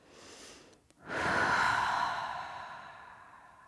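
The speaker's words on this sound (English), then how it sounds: "Maybe you need a couple of exhales to let go of stress" A long, breathy exhale during a yoga session, rising suddenly after a short pause and fading slowly over a few seconds, close and fairly soft, with no talking.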